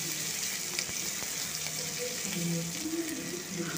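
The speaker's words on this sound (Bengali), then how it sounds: "দিয়ে আবার তেলের সাথে দিয়ে একটু ভালো করে ভেজে নেব" Garlic and green chili frying in oil in a pan while red spinach is being cooked, giving a steady close sizzle with light stirring scrapes throughout.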